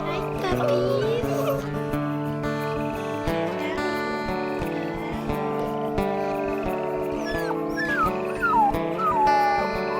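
Wolf pups in the WolfQuest 3 video game whimper and yip in a run of high, wavering cries over about ten seconds, with a person talking over them.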